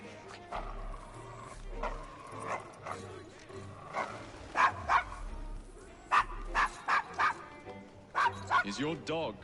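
A dog in the video game Assassin's Creed Syndicate barks and yips repeatedly in uneven bursts, close and fairly loud, mixed with people talking throughout.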